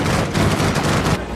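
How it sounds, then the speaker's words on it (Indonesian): Gunfire in a film shootout, a dense loud barrage of overlapping shots and booms filling the moment without pause. "langsung mengancam akan membunuh Isabel, sehingga pertarungan dan baku tembak pun tak terhindarkan lagi."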